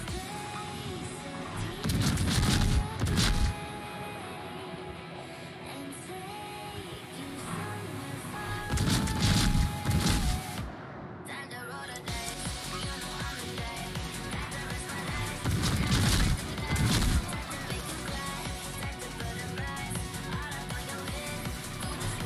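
Naval gunfire strikes a ship in World of Warships, with heavy shell impacts coming in three separate clusters of loud crashing booms over a continuous rumble of engine and sea noise.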